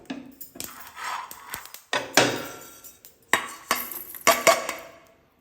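Peanuts tipped into a steel pan while making a ridge gourd chutney, producing a series of sharp metallic clinks and rattles in irregular bursts, close and fairly loud, with no talking.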